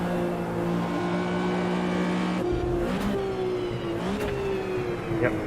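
DPi prototype race cars closing in at Kyalami in Automobilista 2, heard from inside another car's cockpit as a loud engine drone with shifting gear pitch and rising whines from the approaching cars.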